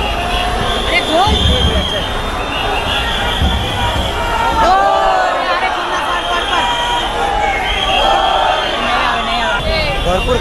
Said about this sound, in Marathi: भरपूर गर्दी झाली आता मरणाची गर्दी फुल गर्दी